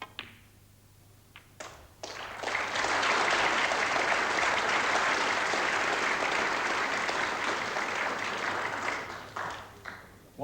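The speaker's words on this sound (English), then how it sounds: "Applause for the century" Sustained audience applause at a 1981 Jameson snooker final, rising after a few soft taps and holding loud and steady for several seconds before thinning out near the end, with no talk over it.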